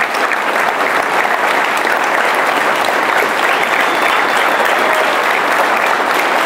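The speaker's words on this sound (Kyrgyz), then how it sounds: "бир кол чаап койгулачы" Audience applause, dense continuous clapping from a large crowd, loud and steady throughout without pause.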